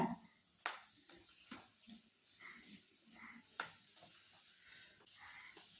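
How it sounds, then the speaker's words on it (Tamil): Ridge gourd and potatoes are stirred and sautéed in a pan, giving soft, faint sizzling and intermittent stirring scrapes at a quiet, close distance. "இப்போ இதை நல்லா கலந்து வதக்கி விட்டுக்கோங்க"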